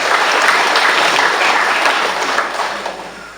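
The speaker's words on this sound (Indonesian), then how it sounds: "kita tepuk tangan dulu buat Romo Paroki di sini yang ternyata keluarganya Pak Gusti saya" Applause from an audience honouring the parish priest during an Indonesian parliament member's recess visit, a dense steady wash of clapping close by that fades slightly toward the end, with no talk over it.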